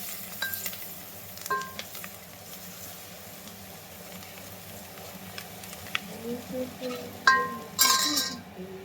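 Garlic paste and curry leaves fry quietly in a pan, with soft sizzling, stirring, and occasional clinks of a utensil against the pan, while people talk faintly in the background.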